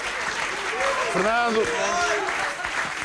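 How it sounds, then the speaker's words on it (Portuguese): A studio audience at the Cabaret da Coxa live comedy show gives Jorge another round of applause, a steady wash of clapping running under a voice as he talks over it. "Mais uma salva de palmas, por favor, para o Jorge"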